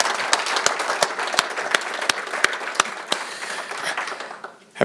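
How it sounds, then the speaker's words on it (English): A church congregation bursts into a round of applause, dense steady clapping from many hands filling the room, continuing evenly before tapering off at the end. "let's give a round of applause"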